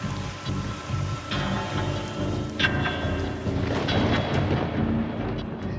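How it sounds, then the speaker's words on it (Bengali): Very heavy rain pours down in Alipurduar, a dense continuous roar of rainfall with a low rumbling undertone, loud and unbroken with no voices. "মঙ্গলবার আলিপুরদুয়ারে অতি ভারী বৃষ্টি হয়।"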